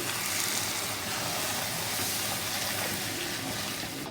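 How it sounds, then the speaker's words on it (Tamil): Dissolved tamarind water being poured into a pan while cooking a karunai kilangu (elephant foot yam) masiyal, a steady continuous gushing and splashing that stays even throughout. "இப்போ கரைச்சி வச்சுருக்கிற புளி தண்ணியை ஊற்றிடலாம்"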